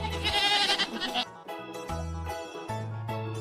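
A goat bleats several times in quick succession, loud and close, with wavering, nasal cries and short gaps between them.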